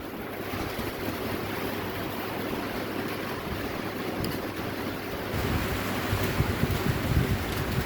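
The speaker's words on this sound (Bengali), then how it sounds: "এই যে বৃষ্টি শুরু হয়ে গেছে" Rain starts to fall as a steady, dense hiss of drops that grows slightly louder and heavier toward the end, with no voices.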